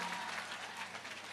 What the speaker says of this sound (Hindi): एपी ग्रुप को जोरदार ताली बजा के धन्यवाद दो